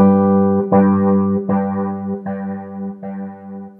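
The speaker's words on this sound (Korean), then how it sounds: "살짝 스프링, 스프링 리버브 같은 소리가 나요." Guitar chords run through a BOSS DD-200 delay pedal ring out with a springy, reverb-like wash, several strums each trailing into a warm repeating decay, loud and close.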